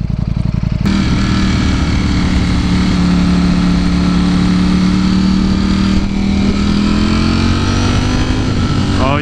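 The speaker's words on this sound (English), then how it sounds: "this is going to be my true, real first reaction of the Streetfighter because I've never ridden one before." A Ducati Streetfighter V4 motorcycle's V4 engine drones loud and steady close by while riding in city traffic in low gear, with a fresh tone starting about a second in and a slight pitch shift near the end.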